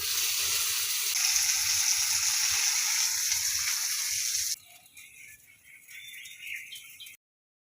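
Garlic and onion frying in a pan give a loud, steady sizzle that drops off abruptly midway, followed by quieter crackling and bubbling before the sound cuts out.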